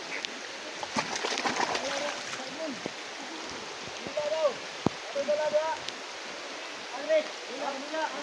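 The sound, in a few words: heavy rain pouring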